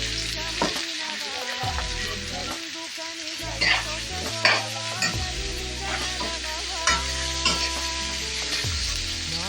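Ridge gourd being stirred with spices and turmeric in a pan: steady sizzling frying with repeated scraping stir strokes, close and continuous throughout, no talking.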